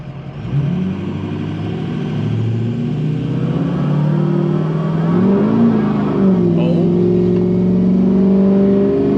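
A Ford 6.0-liter diesel pickup with a performance tune revving hard and spinning its tires, a loud, close engine drone climbing and wavering in pitch for several seconds without speech.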